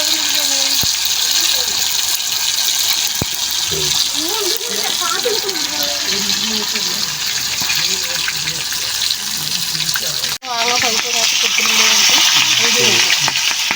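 Chicken legs sizzle loudly in hot oil in a home kitchen, a dense, steady frying crackle running throughout, with a voice talking over it and a brief clatter near the end.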